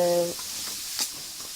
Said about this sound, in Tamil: ஃபர்ஸ்ட் நம்ம பேனில் ஆயில் ஊற்றிட்டு வெட்டி வச்சுருக்க வெங்காயம், பச்சை மிளகாய், கருவேப்பிலை போட்டு